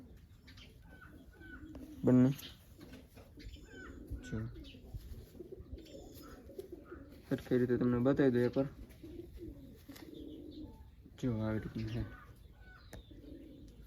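Pigeons coo in a few short throaty bursts nearby, while someone talks over and between the calls.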